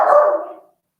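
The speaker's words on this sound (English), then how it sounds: "there's always barking" A single loud, close dog bark rings out alone and fades within under a second.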